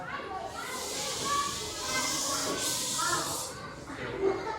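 A class of children imitates a snake's hiss together, giving breathy hissing sounds mixed with chatter and voices over about five seconds.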